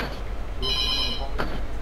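A phone ringing during a mobile gaming session, a short trilling ring in the middle of the clip over a steady low background hum, followed by a brief knock-like sound.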